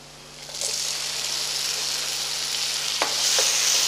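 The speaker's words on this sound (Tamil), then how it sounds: "இப்போ இதுலேயே தக்காளி ஆட் பண்ணுங்கள்." Chopped tomatoes drop into a pan of frying prawn masala for prawn green chilli fry, setting off a loud, steady hissing sizzle that swells after a brief quiet start and holds, with a couple of faint taps.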